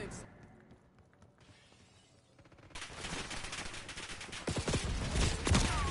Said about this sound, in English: I'm hearing gunshots from 3 different areas